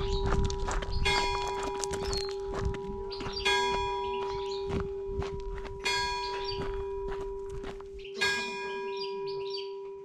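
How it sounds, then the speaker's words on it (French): Bells of the twelfth-century church of Saint-Baudille in Soumont, France ring out in repeated bright, sustained clangs with a low humming tone underneath, moderately close, while footsteps and birdsong sound faintly nearby. "on est accueilli par les cloches de la superbe église de Saint-Baudille de Soumont"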